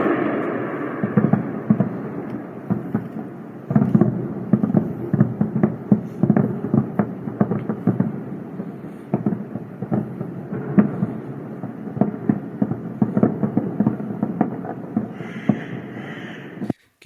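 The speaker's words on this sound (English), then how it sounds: "You can hear a bunch of air defense missile interceptors active there." Air defense missile interceptors fire during an Iranian strike, producing a long series of distant booms, rumbling thuds and crackling bursts that overlap and rise and fall in loudness, with no voices.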